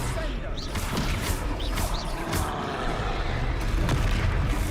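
Heavy crashing blast from the Confringo explosion spell in Hogwarts Legacy, a dense continuous roar of rumbling impacts and debris across the whole stretch, loud and close.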